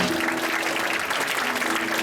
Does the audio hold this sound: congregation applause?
yes